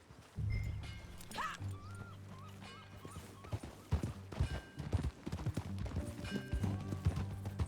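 Steady hoof clip-clops from a horse walking in the video game Red Dead Redemption 2 on PS5, with faint whimpers and game sound effects layered over a low background hum.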